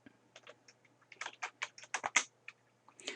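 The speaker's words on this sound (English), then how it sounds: "we're going to type in the word immediate" Fingers type a word in all caps on a computer keyboard, giving a quick, uneven run of light key clicks, close and fairly quiet, with no talking.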